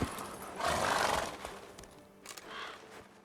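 Roach, a horse in The Witcher 3, gives a short neigh close by, followed by a fainter second whinny and a few hoof sounds, with no talking.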